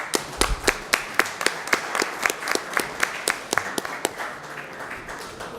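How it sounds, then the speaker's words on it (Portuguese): Applause during a municipal council session, a short run of loud, evenly spaced claps from a small group that thins out toward the end. "Uma salva de palmas para elas."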